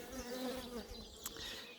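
Bees buzz in a dense, continuous hum close by, with a brief louder buzz as one passes near.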